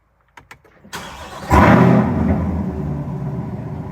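A C8 Corvette fitted with a Sigala Z06 wing fires up: a few faint clicks, a starter whir, then a sudden loud, throaty engine bark that settles into a strong steady idle rumble.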